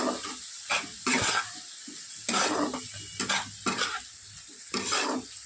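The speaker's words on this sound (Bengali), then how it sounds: "এবার কষিয়ে দেবো।" Spices with turmeric powder and raisins sauté in a pot of oil for prawn pulao: a steady close sizzle broken by repeated scraping strokes of a spoon against the pot in an uneven stirring rhythm.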